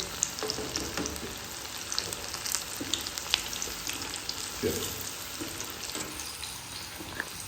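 Paneer frying in fully heated oil for chilli paneer, a continuous close sizzle with scattered pops and light clatters, no voices on top.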